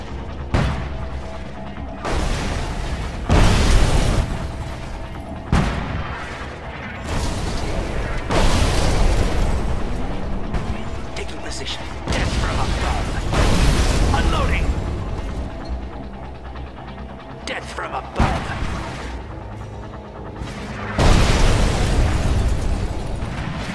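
Heavy bombardment in the real-time strategy game Kane's Wrath, with repeated loud booming explosions rolling one after another over a constant rumbling battle background, punctuated by sharp bursts.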